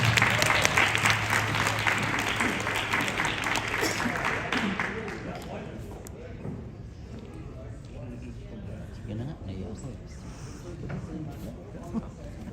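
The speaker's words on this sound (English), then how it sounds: "Can we give another round of applause for Krishna?" Audience applause at a live Phagwah Holi celebration in Queens, New York: loud, dense clapping at first that fades after a few seconds, leaving scattered claps and crowd murmur underneath.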